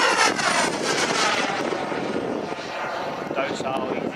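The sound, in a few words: Viperjet model jet plane flying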